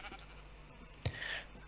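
A sheep bleats once in Minecraft, a short, fairly clear call rising briefly over a quiet game background with no talking.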